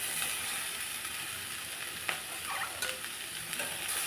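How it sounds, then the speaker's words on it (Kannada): Sliced bitter gourd and tomato fry in hot oil for a bitter gourd palya, giving a steady close sizzle throughout with a few brief stirring clatters and no talking. "ಇವಾಗ ಸ್ವಲ್ಪ ಚೆನ್ನಾಗಿ ಎಲ್ಲ ಎಣ್ಣೆಲಿ ಫ್ರೈ ಆಗುತ್ತೆ."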